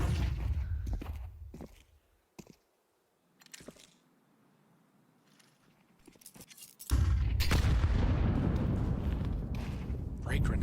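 A grenade goes off in a Counter-Strike 2 match, a sudden loud broadband burst that rumbles on after faint scattered footsteps and distant pops.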